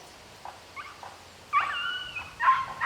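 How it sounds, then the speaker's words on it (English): Dogs barking from somewhere off near a disc golf hole, a few soft scattered yelps early, then louder, sustained barking and whining toward the end, fairly distant. "Can hear the stray dogs in the background."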